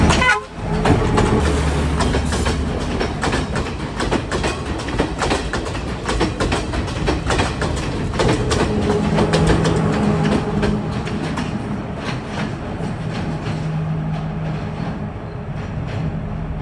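A train in Sri Lanka rumbles past steadily for the whole stretch, loud and close, with a horn tooting at the start and later.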